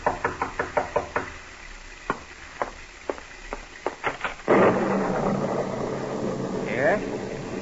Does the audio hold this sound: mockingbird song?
no